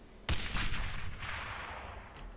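A gunfire blast in the World War II shooter Brothers in Arms: Road to Hill 30 at Purple Heart Lane, a sharp loud crack followed by a rolling, echoing boom that fades out over about two seconds.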